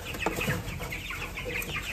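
Jumbo White Cornish Cross chickens cluck softly in short, scattered calls, close but low in level, over a faint steady background hum.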